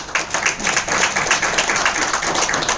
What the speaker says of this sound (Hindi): तालियां दी जाए माधु पर।